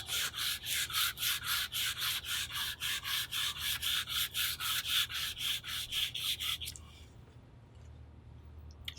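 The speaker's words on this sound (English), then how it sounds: "fold a piece of the silicon carbide abrasive paper into half, flood the surface with the conditioner A, and then wet abrade, 10 or 12 strokes" Silicon carbide abrasive paper, folded and flooded with conditioner, is rubbed back and forth over a metal beam surface in wet abrading strokes, about twenty rhythmic close rasping swipes that then stop, leaving quiet room tone.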